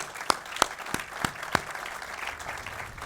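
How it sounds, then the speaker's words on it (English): A few loud, evenly spaced hand claps ring out for the Wangard team at The Locklyn Apartments ribbon cutting in Olympia Fields, then trail into softer scattered clapping. "round of applause for all the Wangard team that's here today"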